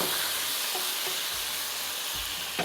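Curry leaves and garlic sizzle in hot oil for a tarka, a steady close frying hiss with a few soft stirring clinks, heard alone with no talk.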